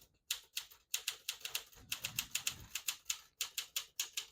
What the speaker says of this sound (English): I'll type a sentence in red on the next line